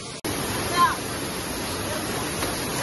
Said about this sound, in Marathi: तर आता आम्ही त्या धबधब्याला जातो.